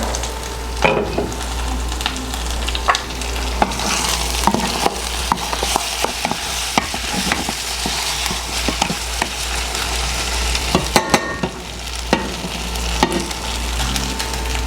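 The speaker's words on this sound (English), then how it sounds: "while the corn mutton is frying" Corn mutton sizzles and crackles steadily in a hot pot, with occasional scraping and stirring clatters over a low constant hum.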